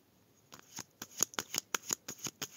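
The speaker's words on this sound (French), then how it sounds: "on fait un dernier tirage avec mon oracle" Oracle cards shuffled by hand in a rapid run of about a dozen crisp, papery riffling bursts, close and clear with no talking.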